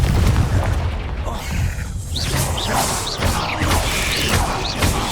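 Confringo blasting spell from Hogwarts Legacy, heard as a loud booming explosion followed by a run of whooshing, crackling magical bursts that continue in quick succession.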